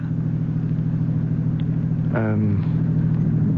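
Steady low car engine drone from inside a moving car on a road at night, a continuous loud rumble running under the whole stretch, with a brief voice riding over it near the end.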